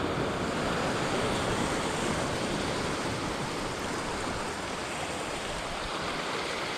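Steady broadband roar of open sea off Arctic Norway, waves and swell rushing continuously with some wind buffeting, loud and unbroken with no voices.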